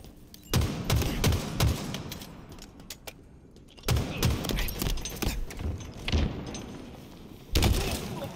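Explosions and gunfire in a video game: several sharp, loud blasts at irregular intervals, with bursts of shots and debris between them, and brief bits of talk under the action.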